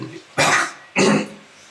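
Two harsh, breathy coughs, each about a quarter second long, are voiced by a game master during a Dungeons & Dragons session to imitate an old, albino-bearded man coughing up blood. They are loud and close, with a short pause between them.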